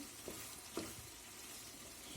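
Minced chicken with onion and carrot sizzles steadily and softly in a frying pan, a continuous hiss with a couple of faint scraping stirs.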